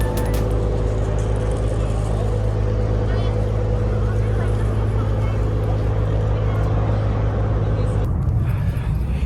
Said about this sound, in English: we need to take a ferry for like 12 minutes from Tung Chung